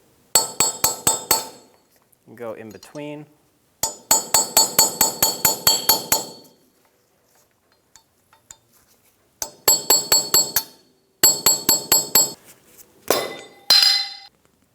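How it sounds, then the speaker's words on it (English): Bursts of sharp metallic taps in quick rhythmic runs, a hammer striking a flat chisel to remove a front wheel hub cap on a 2000-2006 Toyota Tundra, with a brief pause and a short scrape between groups. "I'm going to use a flat chisel and a hammer."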